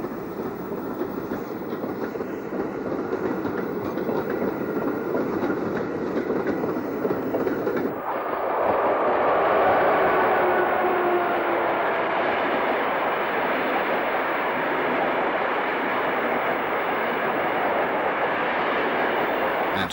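An electric haul train leaving Manchester Piccadilly rumbles past close by, a steady heavy roar with a faint rhythmic clatter, shifting in tone about halfway through and continuing loudly to the end.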